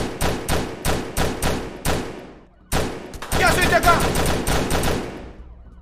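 Rapid gunfire from a video game, bursts of sharp shots in quick volleys, a brief pause, then denser sustained firing; someone speaks briefly over it.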